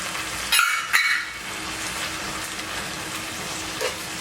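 Bacon jam with balsamic vinegar and brown sugar sizzles steadily in a pan, a close, even frying hiss with a couple of sharper stirring clatters near the start.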